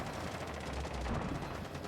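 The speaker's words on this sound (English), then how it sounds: "A lot of gunfire coming out, not a lot of kills so far though" Rapid gunfire rattles continuously in a Rainbow Six match on Xbox, a dense, loud burst of automatic shots.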